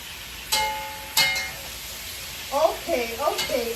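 Sliced onion dropped into a hot pan of frying liver, two sharp clattering clinks followed by a soft sizzle as it settles, with a voice speaking over the cooking sounds.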